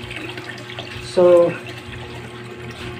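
A submersible pump, assembled for catfish farming, is lowered into water and gives a short, sharp splash and gurgle lasting about a third of a second amid steady background noise.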